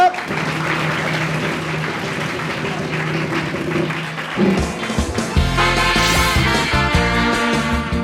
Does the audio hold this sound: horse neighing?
no